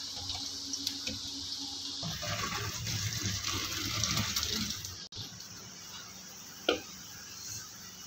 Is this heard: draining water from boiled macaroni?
yes